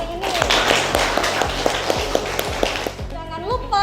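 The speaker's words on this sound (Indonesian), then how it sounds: "Kita beri tepuk tangan dulu untuk kita semua hari ini." Classroom applause for vocational high school students, steady rhythmic hand clapping from a group running throughout, with voices and a bit of music underneath.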